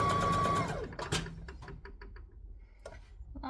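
A sewing machine stitching a lap quilt runs loud at first, then slows and winds down into scattered ticks and knocks, close by with no voices.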